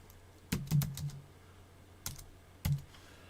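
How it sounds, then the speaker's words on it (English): Scattered keystrokes on a computer keyboard: a quick cluster of close clicks, then two isolated taps after a pause, crisp and near against a quiet background with no talking. "So I'm typing in right now,"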